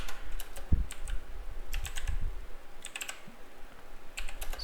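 Computer keyboard typing in short bursts of quick clicking keystrokes with brief pauses between them, close and moderately quiet, no voices.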